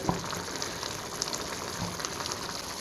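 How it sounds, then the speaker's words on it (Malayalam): Steady bubbling simmer of vatta fish pickle in a pan on the stove, a continuous soft crackling hiss with no voices. "അപ്പോൾ ഇത് തിളച്ചുകൊണ്ടിരിക്കുകയാണ്."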